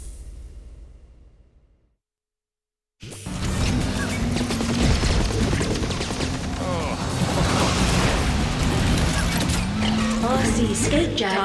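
Machine gun fire in the Cars 2 video game comes in a dense, loud barrage of rapid shots mixed with booms and crashes from racing cars. It starts after a brief silent gap and carries on steadily to the end, with in-game voices over it.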